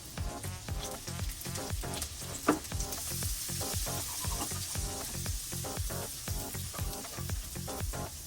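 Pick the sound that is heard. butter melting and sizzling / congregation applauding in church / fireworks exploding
butter melting and sizzling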